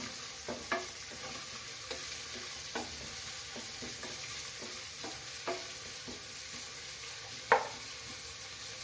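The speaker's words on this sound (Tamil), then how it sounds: "மூணு வெங்காயம் பொடியாக அரிஞ்சு வச்சது அதை சேர்த்துக்கலாம் அதை சேர்த்து வதக்குவோம்" Finely chopped onions sautéing in oil with cinnamon and cloves for a spicy mutton gravy, a continuous sizzle broken by regular scraping stir strokes from a spoon, close and steady with no voices.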